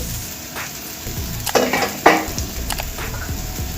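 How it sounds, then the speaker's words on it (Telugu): Ground green peas for matar kachori frying in a pan, a steady sizzle punctuated by a couple of louder spoon scrapes and clinks against the pan, close up with no talking. "ముందుగా గ్రైండ్ చేసి పెట్టుకున్న ఈ బఠానీ వేసి ఇందులో వేయించుకోవాలి"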